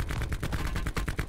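Rapid automatic gunfire in the video game Call of Duty Blackout, a quick, evenly spaced burst of loud shots that fills the whole moment with no talking over it.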